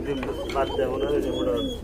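A pair of pigeons coos softly and repeatedly, close by, under people talking.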